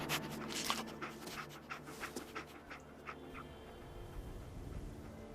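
Dogmeat, the dog companion in Fallout 4, pants in quick rhythmic breaths, close and fairly soft, over a low steady game ambience with no talk.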